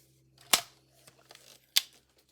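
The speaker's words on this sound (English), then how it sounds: "We're going to cut that border off." Two sharp, crisp paper snips by scissors trimming the border off a sheet, spaced about a second apart, close and clear over a quiet room with a faint steady hum.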